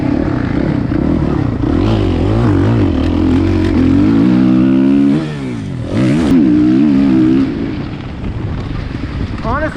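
A 2018 Suzuki RMZ450 motocross bike revs hard on a track, its engine wailing up and down in rapid throttle bursts, with a brief drop-off around a jump landing before it picks up again.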